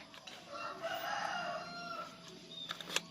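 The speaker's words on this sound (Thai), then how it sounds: "ไก่ขัน" A rooster crows once in a long, drawn-out call, slightly distant, against a soft outdoor morning background in Thailand.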